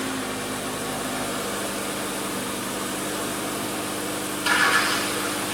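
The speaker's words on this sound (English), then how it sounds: "Engine sounds okay, right?" Steady, even running of a 2012 Hyundai Sonata Hybrid engine with an active air flap fault, a low constant hum heard alone, with a brief brighter hiss rising near the end.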